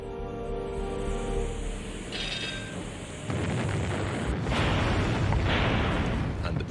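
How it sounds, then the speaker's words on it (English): British 15-inch battleship guns opening fire, heavy booms and rumbling blasts that build and cut in sharply partway through over a low droning background, loud and close, with no talk. "the British 15-inch guns on their battleships open fire"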